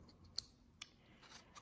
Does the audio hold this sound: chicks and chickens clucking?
no